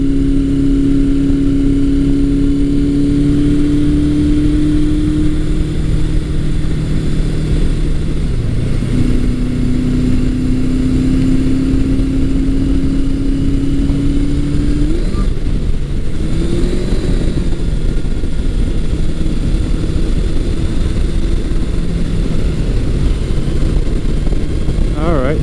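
A 1982 Suzuki GS750E motorcycle engine drones loudly and continuously on a test ride, its pitch sagging and stumbling as it bogs, then climbing again with renewed revs, all under heavy wind rumble.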